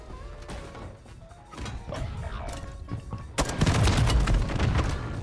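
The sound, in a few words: gunfire in the video game Call of Duty Warzone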